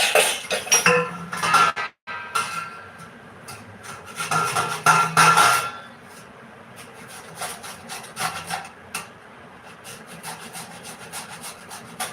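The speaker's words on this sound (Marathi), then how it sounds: "तर हे मी असं किसून घेणार आहे" Raw green mango for sakharamba being grated by hand, a close, steady rasping scrape in quick repeated strokes, with a brief pause and then lighter strokes toward the end.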